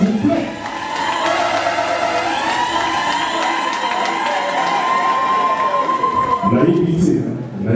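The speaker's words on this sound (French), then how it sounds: "Est-ce qu'on peut applaudir très fort pour le roi et la reine de ce soir, s'il vous plaît?" Guests at a customary wedding in Paris applaud and cheer loudly for the newlyweds, a dense crowd roar with shouts and whoops that holds for several seconds, with a voice calling out near the end.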